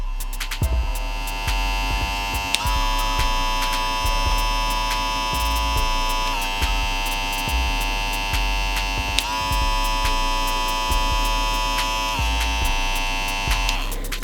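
TPOB Play hair clippers running on their most powerful mode, a loud, steady close-up electric buzz whose pitch shifts slightly every few seconds, with no talking.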